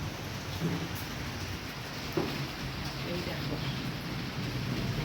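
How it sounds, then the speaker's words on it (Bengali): Rain falls steadily in a heavy, continuous hiss of drops on surfaces nearby, with a faint low rumble beneath. "কেমন বৃষ্টি বাবা রে বাবা"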